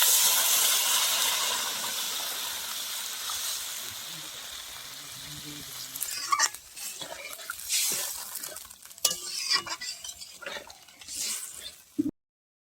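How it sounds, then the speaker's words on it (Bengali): Hot water poured into curry gravy in a pan sets off a loud, sustained steaming hiss that fades after several seconds, followed by scattered clatters and stirring sounds. "তো আমি এখন গরম জল ঝোল দিয়ে দেবো।"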